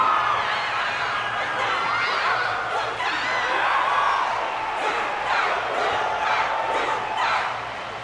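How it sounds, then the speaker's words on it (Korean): A large stadium crowd in the Honkai Star Rail video game roars and cheers continuously, a dense wash of voices with rising swells of shouting throughout. "관중들은 여전히 열렬히 환호하고 있네요"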